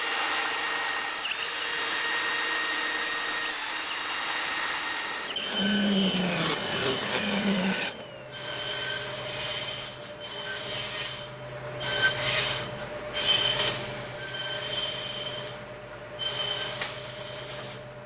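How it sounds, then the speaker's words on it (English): A hand reamer scrapes and rubs through holes in wood at a workbench, rasping in uneven strokes with brief pauses between passes, close and moderately loud. "Now all I have to use is the reamer"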